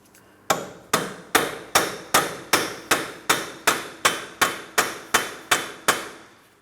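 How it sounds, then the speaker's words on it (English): A hammer strikes a punch set against the center of an axle shaft on a 2004-2008 Pontiac Grand Prix, tapping it free from the front wheel bearing hub: about fifteen sharp, evenly spaced metallic blows, close and loud, with no talking. "A hammer and punch directly in the center of the axle shaft. Let's tap on this, breaking the axle shaft free from the wheel bearing."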